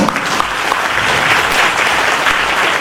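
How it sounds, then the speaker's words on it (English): Steady, loud applause from a crowd, dense clapping that holds throughout without a break. "A round of applause for them, please."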